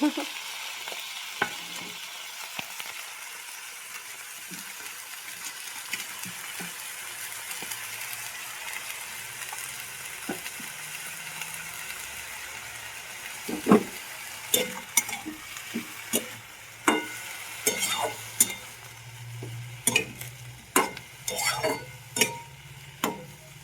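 Flowers stirred and frying in a pan after eggplant, a steady close sizzle with scraping and clinks of a utensil against the pan, the stirring growing busier and louder in the second half.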